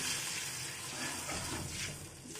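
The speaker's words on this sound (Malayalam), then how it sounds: "കുറച്ച് വെള്ളം ഒഴിക്കുവാണേ" Water pours in a steady, rushing stream into a hot pan, with a hissing, splashing wash of sound and no talking.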